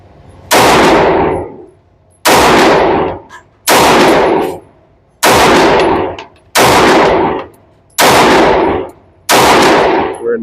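A Sig P365 AXG pistol fires seven loud, sharp shots outdoors at a range, evenly spaced about a second and a half apart, each crack ringing out with a short decaying echo.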